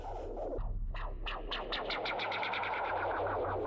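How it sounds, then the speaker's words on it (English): A synth tone with heavy effects rings out, its repeating notes smearing into a long washy reverb tail that fills the space continuously. "Maybe a touch of reverb."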